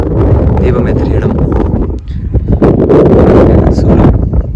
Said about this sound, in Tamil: காற்றடிக்குது.